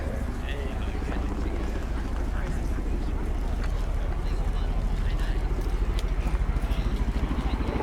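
An RAF Chinook HC6 helicopter's rotor blades give off a deep, rhythmic thudding slap that grows stronger toward the end. It carries over wind buffeting on the microphone at an outdoor air display, while a commentator talks over it.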